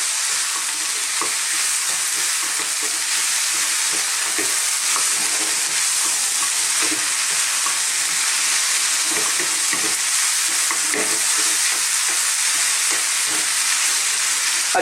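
Minced meat and rinsed red kidney beans sizzle steadily in a pan for a Mexican-style spicy shepherd's pie, while a utensil stirs and breaks up the lumps, giving soft irregular scrapes over the constant frying hiss.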